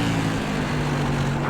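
Whelen Modified race car in the iRacing sim at South Boston, engine droning steadily off throttle with a constant low hum throughout, no talk over it.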